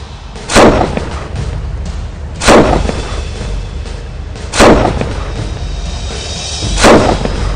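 Sniper rifle gunfire in a war drama: four loud, heavy booming shots spaced roughly two seconds apart, each ringing out over a low rumbling battlefield background, with no speech.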